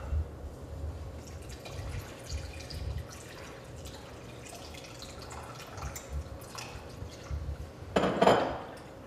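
Quiet liquid sloshing and dripping as a cup of water is slowly stirred into a whisked mixture in a bowl, with soft clinks of utensils and a brief louder splash near the end.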